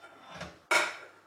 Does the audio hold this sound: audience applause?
no